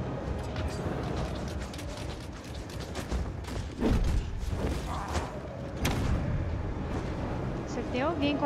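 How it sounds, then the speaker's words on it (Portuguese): Bomb blasts and weapon fire in the Nosgoth game, a series of sharp booming impacts and crackling bursts in quick irregular succession, with a player talking over them. "A bomba, não sei quem foi."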